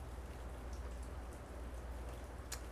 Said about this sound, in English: You can hear some drizzling.